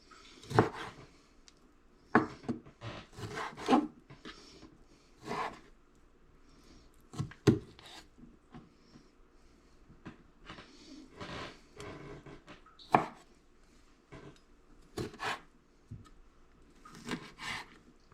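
A knife chops a small piece of pork fat on a cutting board for rabbit burgers, giving quiet, irregular, sharp taps and scrapes in short bursts with pauses between.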